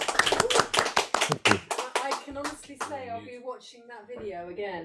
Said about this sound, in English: But another round of applause is well deserved.